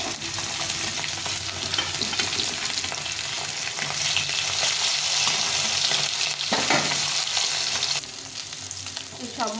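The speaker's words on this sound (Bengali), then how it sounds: "এই মাছগুলো ভেজে নিয়েছি, সুন্দর কড়া করে ভেজে নিয়েছি।" Fish sizzle steadily in hot oil in a home kitchen, a dense crackling hiss that runs close and loud the whole time, with brief shifts as pieces are moved or lifted.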